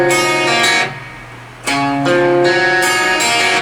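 Clean guitar plays a quick passage from a rock ballad, a few plucked open-string notes and a short strummed figure, close and clear with brief gaps between phrases.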